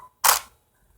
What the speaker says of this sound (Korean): 셔터 소리를 한번 들어볼 건데